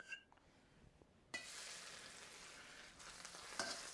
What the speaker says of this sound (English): You fry the mushroom.